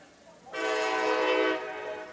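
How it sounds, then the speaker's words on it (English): A small train of about four cars passes beside a university baseball field in Tampa, its rumble and horn-like tonal blare swelling in suddenly and holding loud for about a second before easing back to a steady, nearer-background roar. "That one looked like strike two as a train is passing through."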